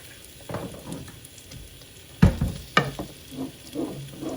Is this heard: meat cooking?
yes